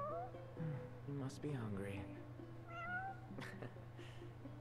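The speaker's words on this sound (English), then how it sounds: "It's a cat." Cat meowing in Final Fantasy XV, several short rising mews close by, mixed in with a voice talking over them.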